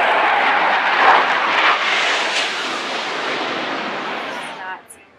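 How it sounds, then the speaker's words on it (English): Two Russian Su-24 attack jets pass low over a warship, a loud roaring rush of jet noise that swells and slowly fades away over several seconds, with no speech over it. "We have two Russian SU-24s currently conducting multiple passovers"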